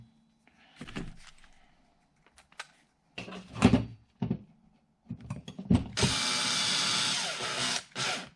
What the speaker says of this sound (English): we're going to put 2 more button head screws in